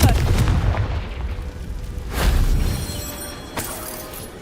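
A Confringo blast curse from the Hogwarts Legacy video game fires off as loud booming explosions, with a heavy burst near the start, another swelling blast around the middle and a sharper crack near the end, all over a dense low rumble.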